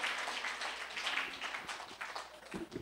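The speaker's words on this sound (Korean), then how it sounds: "하나님께 영광의 박수 올리겠습니다." Congregation at a church mission retreat seminar applauds together, a steady wash of many hands clapping at moderate distance, fading slightly toward the end with no voices over it.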